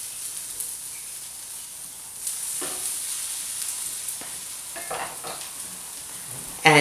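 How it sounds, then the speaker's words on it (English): A wooden spoon stirring a feta frittata in a pan, a low steady sizzle with scattered soft scraping strokes, quiet and close with no voices. "I'm just going to stir it around with my wooden spoon."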